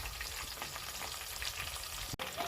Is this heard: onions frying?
yes